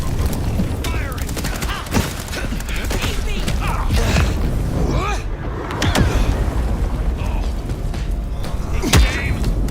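Gunfire in the video game Vampire The Masquerade - Bloodlines 2, a steady stream of sharp shots and bursts with mechanical clatter over a dense game soundscape, with voices calling out in between.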